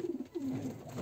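A pigeon being bathed with small amounts of water gives soft, low, throaty coos in a short run of repeated notes, fairly faint and close, with no talking.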